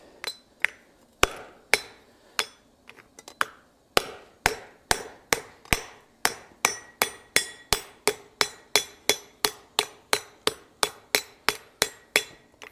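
A round-faced hand hammer forging a hot steel hook-tail ladle down into a sinking block: steady, ringing metallic blows, close and loud, about two per second after a few lighter taps, with no talking.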